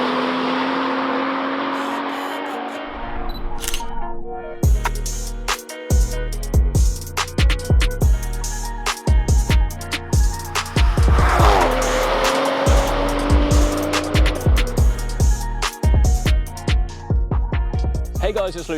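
A tuned 600 bhp BMW M135i with the N55 engine, running on race fuel, accelerates hard. It screams up through the revs in repeated pulls, with sharp cuts and pops between gear changes and a brief tire squeal, loud and close.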